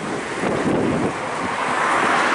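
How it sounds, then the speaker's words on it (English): Wind howls against a microphone outdoors in the early hours, a loud steady roar of buffeting gusts filling the whole clip with no other sound. "Sorry about the wind, by the way."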